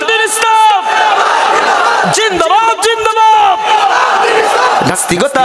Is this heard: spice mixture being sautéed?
no